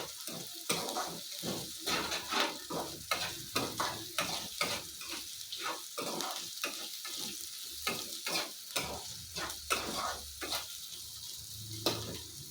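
Bitter gourd is stir-fried in a little oil, and its sizzle runs under a quick, steady rhythm of spatula scrapes and knocks against the pan. The sound stays close throughout.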